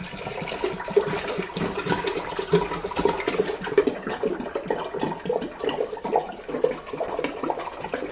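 Water pours and splashes steadily into a pot while making fruit cocktail wine, a continuous gurgling rush with small bubbling fluctuations throughout.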